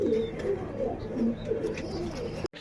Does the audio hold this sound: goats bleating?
no